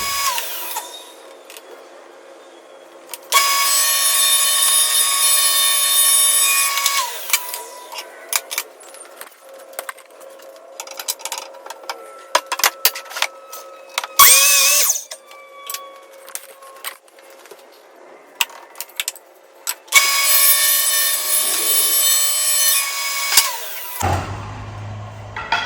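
A saw rips a walnut board in a woodworking shop, two long loud whining cuts separated by quieter handling noises, clatter and a brief high screech.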